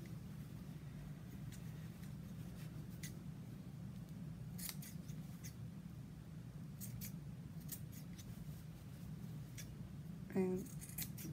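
Scissors snip around the edge of a crocheted fabric bowl cozy, a quick cluster of close, crisp cuts near the end over a steady low background hum.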